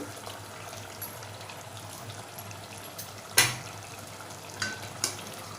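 Onion-coconut paste stirred into cooked tomato puree in oil in a pan, a soft steady sizzle with occasional scraping knocks of the spoon, one louder clack midway.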